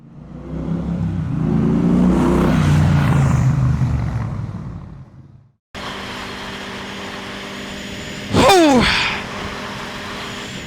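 A CFMOTO 675ss sport motorcycle on a ride, its engine running steadily with a loud surge partway through, then a sharp rising rev sweep near the end; wind rumble fills much of the first half.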